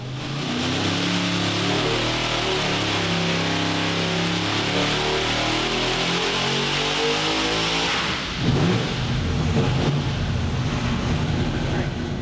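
A supercharged 903 cubic inch Hemi engine with a ProCharger F4X blower roars loud and close, its pitch sweeping up and down through sustained revs before a brief dip and a renewed surge.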